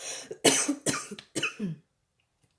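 A person coughs in a few loud, close, harsh bursts, three or four in quick succession, then falls silent.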